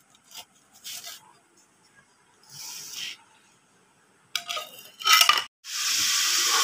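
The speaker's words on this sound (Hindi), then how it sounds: "मैंने मसाला भून के ना गोभी और आलू दोनों डाल दी है" Cauliflower and potatoes cooking in fried masala in a pan give intermittent bursts of hissing sizzle, some short and others a second or more long, with quiet gaps between them.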